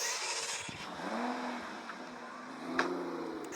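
A car drives in the Minecraft video game, its synthetic engine revving in rising and falling sweeps, fairly loud and close, with a short sharp effect near the end and no talk.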